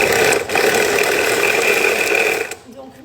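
A kitchen blender purées broccoli and other vegetables into a smooth mix: a loud, steady mechanical whir with a buzzing motor tone runs without a break, then cuts off abruptly near the end, leaving a quiet room.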